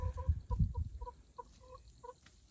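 Broody hen near a nest of eggs giving short, soft, evenly spaced clucks, close by, fading into a quieter run of the same low pulses, with no talking.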